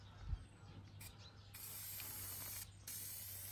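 Aerosol can of primer spraying onto a homemade welded metal door, heard as short hissing bursts that settle into a longer continuous spray with one brief break, close by and without talk.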